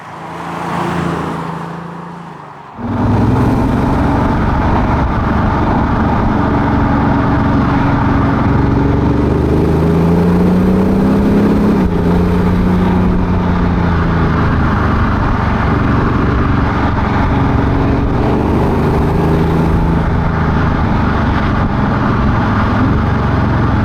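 A 2020 Audi S4 with a diesel engine pulls away and accelerates, its engine note rising in steady, loud pitch sweeps through the gears after a brief quiet start, heard from inside the car without talk.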